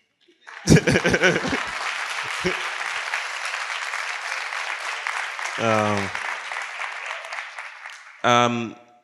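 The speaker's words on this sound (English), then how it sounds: "you can clap if you want to." A burst of audience applause swells and holds for several seconds, steady clapping from a crowd, with someone speaking briefly before and after.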